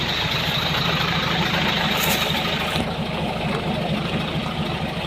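A six-wheel truck engine runs steadily at close range, a continuous low rumble with a brief shift midway, while people talk quietly underneath.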